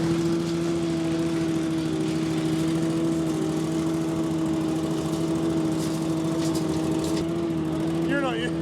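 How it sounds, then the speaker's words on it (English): A leaf blower runs steadily in a garden on fallen leaves, a loud, unbroken engine drone with a constant whine that continues throughout, and brief voices in the background near the end. "be interesting to see how the blower works on these leaves"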